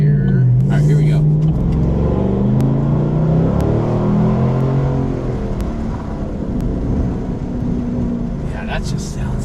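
A GMC Sierra pickup with a Borla Atak exhaust accelerating hard, a deep droning engine roar rising in pitch through the gears, heard from inside the cab with rumble and brief clicks.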